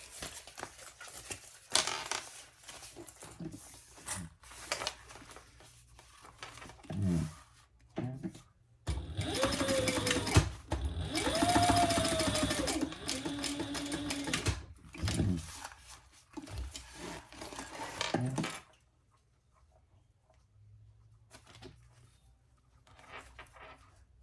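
A sewing machine topstitches the wrong-sides-together seams of a sling bag in several stitching bursts, the longest run in the middle, separated by pauses and ending in near silence.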